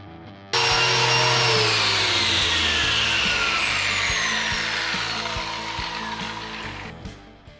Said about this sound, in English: I just gave all the bumper bolts a bit of a sand as well, just on the heads of them